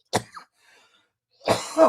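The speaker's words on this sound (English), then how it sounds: "you guys could see when I'm coughing" Two bursts of harsh coughing, a short one at the start and a heavier, rougher one near the end, separated by near silence.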